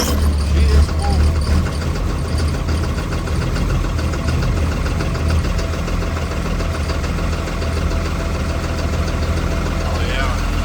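A cold-started 2005 Blue Bird All American school bus with a Caterpillar C7 diesel engine runs at fast idle, a steady, loud, continuous low rumble with a knocking diesel texture throughout, no talking over it.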